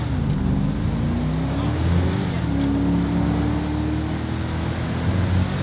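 A GTA 5 SUV engine drones steadily and loudly, its pitch rising and settling as it revs and cruises through shifts, with a continuous rumble throughout and no clear voices on top.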